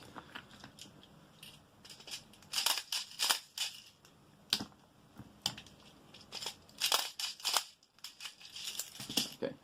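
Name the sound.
loading 0.2 gram airsoft BBs into magazine with speed loader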